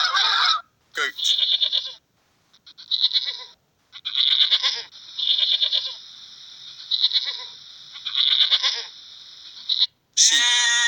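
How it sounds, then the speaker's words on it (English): Repeated wavering bleats from a goat, several calls in a row with short pauses between them, clear and close with no talking. "Goat."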